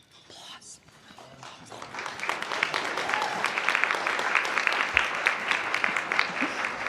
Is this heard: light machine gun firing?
no